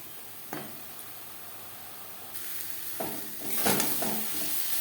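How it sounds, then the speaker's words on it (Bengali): Close spatula scrapes and stirring over a soft, steady sizzle as spices fry with salt and turmeric in a pan, with a few distinct louder strokes toward the end. "লবণ হলুদ মশলার সাথে বেশ ভালো করে মিক্সড করে দেব কাঁচা গন্ধ যাওয়া পর্যন্ত নাড়াচাড়া করে নেব"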